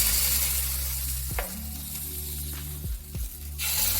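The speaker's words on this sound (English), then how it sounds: "start adding in the batter into the mold" Masa batter for Nigerian Hausa masa poured into a hot mold, frying with a loud, continuous close sizzle, broken by a few brief spattering crackles, no talking.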